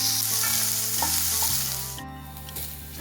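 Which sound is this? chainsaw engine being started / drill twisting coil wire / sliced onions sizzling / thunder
sliced onions sizzling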